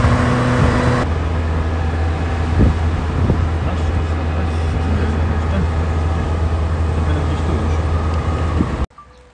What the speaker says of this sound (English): So now I'm driving about 70 kilometers an hour, and well, it drives pretty nicely despite the chilly weather